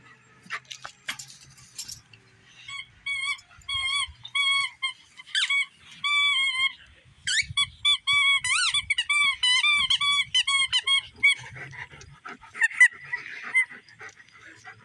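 A dog squeaking a rubber duck toy outdoors, with a rapid run of high, wheezy squeaks and honks in bursts, fairly close and mostly without talking.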